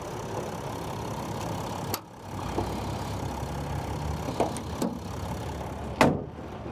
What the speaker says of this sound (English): the engine's running, so you can see how quiet these diesels are